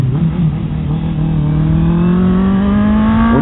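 A Honda CB 650 R motorcycle engine revving close by on a city street, a loud, steady tone that climbs gradually in pitch as the revs rise, with no talk over it.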